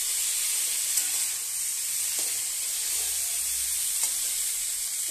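Potatoes and cauliflower fry together in hot oil in a pan for alu fulkopir rosa, a steady bright sizzle with a few faint stirring scrapes, close and continuous, no talk.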